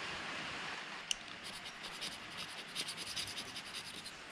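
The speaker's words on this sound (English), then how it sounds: "We're just going to scrape around all the little areas that we've missed to make sure we get all this gasket off." A disposable razor blade scrapes old gasket material off an engine surface on a Toyota 2H diesel block, giving a quiet, steady run of raspy scratching strokes close up with one sharp tick early on.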